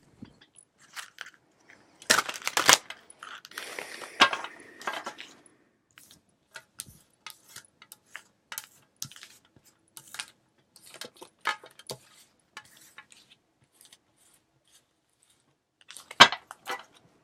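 Tarot cards being shuffled in a quiet room, with irregular bursts of close crisp riffling and papery clicks, a denser flurry early on, sparse scattered snaps in between and another sharp burst near the end.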